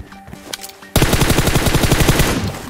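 A few scattered shots, then a loud, rapid burst of automatic gunfire in PUBG Mobile, sustained close up until the end.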